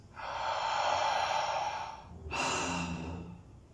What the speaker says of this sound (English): I'm going to exhale.